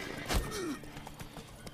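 Roach, Geralt's horse in The Witcher 3, whinnies with a rising-falling neigh near the start, followed by a faint trail of hoof clip-clops; no talking.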